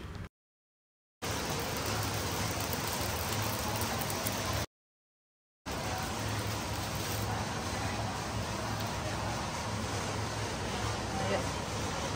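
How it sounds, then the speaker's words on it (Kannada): Steady rain pours down as a dense, even hiss, broken by two short gaps of silence, with no voices. "ಮಳೆ ಬರ್ತಿದೆ"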